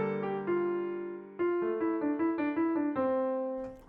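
A piano plays with both hands together, a sustained low chord under a stepping melody of repeated notes. The sound is close, clean and steady, with a slight murmur right at the end.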